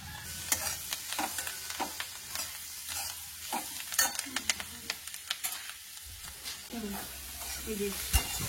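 Chilli powder and spices with a little turmeric sizzle in hot oil in a pan while being stirred, a steady close frying hiss broken by repeated scraping strokes of the spatula.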